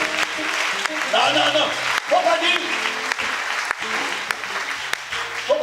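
A church congregation claps for Jesus in a sustained round of applause, loud and continuous across several seconds, while a voice speaks over it.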